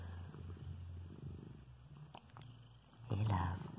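A pet cat purrs close by in a soft, low rumbling rhythm, with a louder rumble near the end, while someone speaks gently over it.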